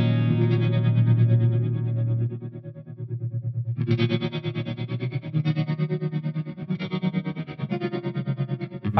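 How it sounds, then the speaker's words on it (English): An Eventide Eclipse rack effects unit's undulator preset warbles a sustained tone with wavering, pulsing modulation and heavy distortion, swelling and chopping rhythmically in a looped pattern. "I'm gonna navigate to the undulator preset on the Eclipse."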